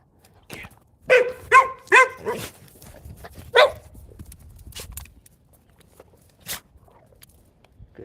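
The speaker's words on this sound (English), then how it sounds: "Good dogs." Several dogs bark in a quick burst of four or five loud, close barks, then one more bark after a pause, with scuffling footsteps and movement between them.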